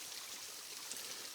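A forest waterfall and stream on the Ouachita Trail, a steady rushing, splashing wash of water at an even level, heard alone without voices.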